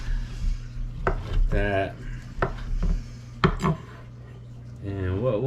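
A knife chops pork sandwich slices on a board, giving a handful of sharp, close knocks spaced irregularly, with someone talking briefly between the cuts.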